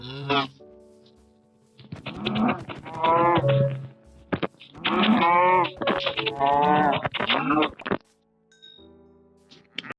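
Several loud cow moos from a Minecraft-style video game, long and drawn out in close succession with brief gaps between them, alone without talk.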